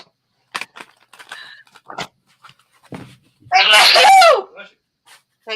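One loud, sudden sneeze bursts out partway through, close and forceful, after scattered quieter voice sounds and a little talk.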